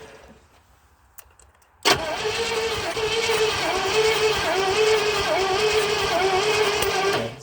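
A 1970 Oldsmobile Toronado with a 455 engine, long abandoned, cranks briefly after a quiet stretch, then catches and roars into a loud, steady idle that holds close and rough through the rest.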